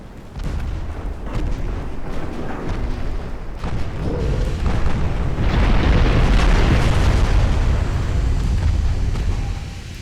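A torpedo strikes at point-blank range in a naval video game, setting off a loud, sustained roar of explosion that swells midway and rumbles on for several seconds, with no voices.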